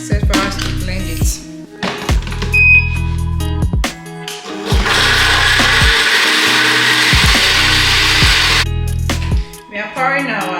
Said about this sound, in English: Okay, it's set for us to blend it.